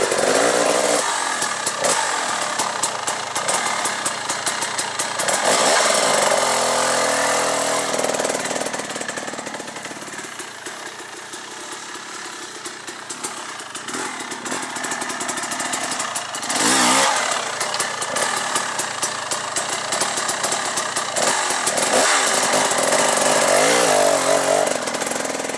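An enduro dirt bike engine climbs a hill under careful clutch control, revving loud and raspy in repeated rising and falling bursts, dipping quieter midway before building again, heard close for over twenty seconds without talk.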